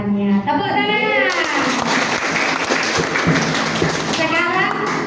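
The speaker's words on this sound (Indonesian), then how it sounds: "Tepuk tangan." A church congregation breaks into loud, sustained applause, with voices and cheering mixed in and speech returning near the end.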